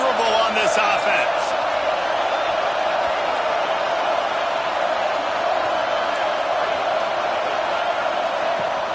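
A loud, steady roar of a stadium crowd in College Football 26, the Roosters versus World matchup, swelling on a fourth-down play and holding without a break under a commentator's voice.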